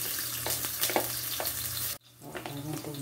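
Chopped onion frying in a pan for a rice and chicken gizzard dish, a steady sizzle with stirring scrapes that dips briefly partway through and then resumes.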